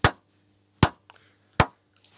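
Guitar struck three times at steady intervals, each note dying almost at once, played close in a very dry vocal booth with the room absorbing nearly all ring; a faint hum runs underneath.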